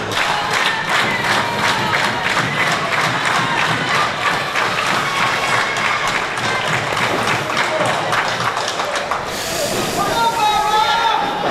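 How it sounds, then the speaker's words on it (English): Crowd at a live SWE Fury TV professional wrestling tag-team match cheering and roaring steadily throughout, a loud dense wall of voices with a brief shift in tone near the end. "This crowd getting behind the OMGs."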